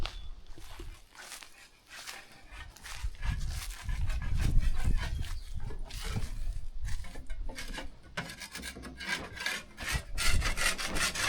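Old paint being sanded off wood by hand, close rough scraping and rubbing strokes in an irregular rhythm, pausing briefly then resuming more intensely, with no talk.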